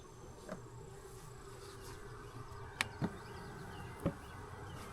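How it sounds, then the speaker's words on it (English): Honey bees hum steadily around a hive during queen rearing, a close, even buzz with a few louder individual bees passing near, with no one talking. "See all these bees right here?"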